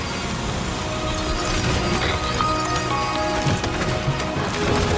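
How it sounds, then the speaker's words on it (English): Steady rain falls across a Death Stranding 2 landscape, a dense continuous hiss of drops pattering on surfaces, loud and even throughout with a few soft knocks mixed in. "Rainy."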